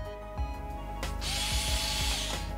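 A Parkside PAS 4 B3 cordless 4V screwdriver ratchets and clicks in short bursts, then whirs steadily at close range with a few sharp mechanical clacks, no voices.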